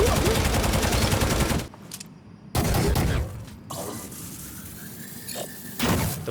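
Heavy Stubber heavy machine gun from Necromunda: Hired Gun fires loud rapid bursts, broken by short pauses and mechanical clanks between them.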